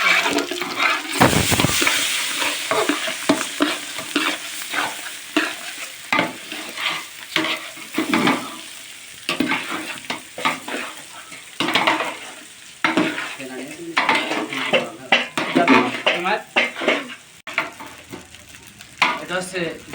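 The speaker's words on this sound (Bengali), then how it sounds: "চালটা দিয়ে সুন্দর করে ভেজে নেব।" Rice stirs and fries in a pan for khichuri after the spices have browned, giving steady sizzling with repeated scraping strokes of a spoon close by.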